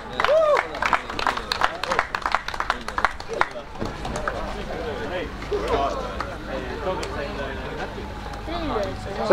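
Scattered clapping and crowd noise from a large gathering at a motocross awards ceremony in Põlva, Estonia, run beneath a loud amplified announcer voice talking throughout.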